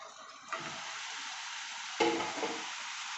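Brinjal (eggplant) frying in a pan, giving a steady close sizzle with two brief louder scraping stirs partway through.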